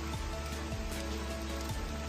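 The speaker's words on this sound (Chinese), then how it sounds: "好，现在天气在下雨，下雨中。" Rain falls steadily on a mountain trail near the Walami cabin, a continuous close hiss with no break and no voices.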